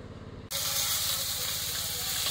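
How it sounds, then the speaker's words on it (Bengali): Fish sizzles in hot oil in a pan, a steady close frying hiss that starts abruptly after a brief quieter moment and then holds continuously to the end. "মাছ ভাজা হচ্ছে।"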